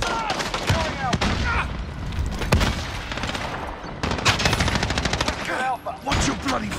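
Dense gunfire in Call of Duty: Modern Warfare, rapid automatic bursts and sharp single shots crackling throughout, loud and close, with game voices and radio chatter mixed underneath.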